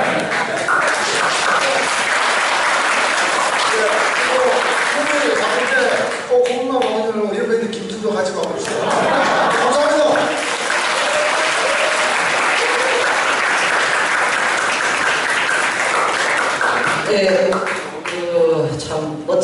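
A hall audience breaks into loud, sustained applause after a lecture on non-regular workers in a YMCA auditorium, dense clapping filling the room with a brief dip midway and voices heard between bursts.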